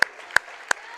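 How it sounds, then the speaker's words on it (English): Three sharp, isolated hand claps at a girls' high school basketball game (UCHS vs Hagerstown), evenly spaced and fairly faint against a quiet gym background. "Round of applause."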